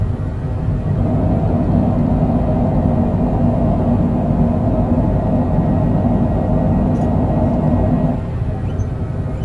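An airliner's thrust reversers roar during a landing rollout in a flight simulator game, a loud, steady low rumble that holds for most of the stretch before easing off near the end.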